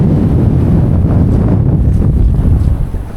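Strong wind gusts across an open beach, battering the microphone with a loud, continuous low roar that fades slightly at the end.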